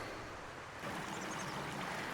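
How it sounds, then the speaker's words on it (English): A babbling mountain brook gives a steady, soft rushing of water that rises slightly partway through and continues with no voices. "The most beautiful babbling brook."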